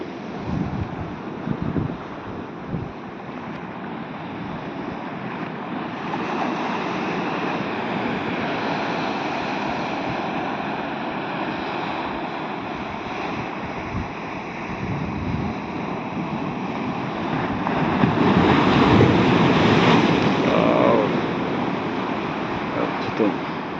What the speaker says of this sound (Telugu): వాగులు పైకెళ్ళ లేస్తున్నాయి.